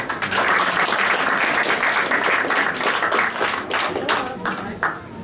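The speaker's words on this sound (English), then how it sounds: "we should thank them upfront now and give them a big round of applause" A hall audience gives a big round of applause for event performers at a Tamil new year celebration, steady dense clapping throughout with a few louder claps near the end.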